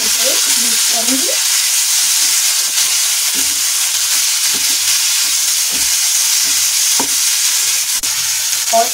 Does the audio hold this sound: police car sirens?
no